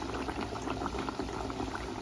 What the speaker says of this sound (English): the oil is hot and ready to add the Johnny cakes inside the pot